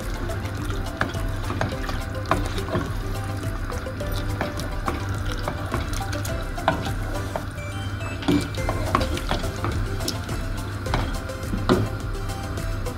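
Beef for kabiri rice frying in a pan while being stirred, giving a steady wet sizzle with repeated scraping and clinking strokes throughout, close and moderately quiet, without any voices.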